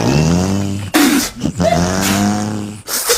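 A man imitates a truck shifting gears with his voice, making a rising engine drone cut by sharp breaks and breathy bursts between each gear, loud and close.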